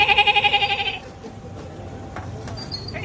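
A man imitates a goat's bleat in one loud, wavering, quavering cry lasting about a second, followed by quieter background noise from a night-time roadside setting.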